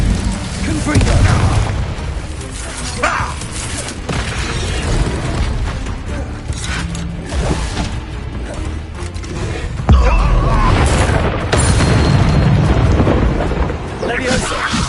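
Confringo blasting spells in Hogwarts Legacy set off repeated heavy booming explosions and crackling bursts in a loud, continuous battle din, with a louder hit near ten seconds.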